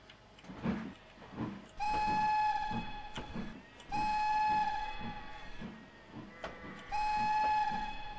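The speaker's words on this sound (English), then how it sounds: "Interesting whistle." A steam locomotive whistle in Trainz Railroad Simulator 2019 on the Cornish Mainline sounds three long, steady blasts, each preceded by a brief short toot, over quiet rumbling engine and rail noise.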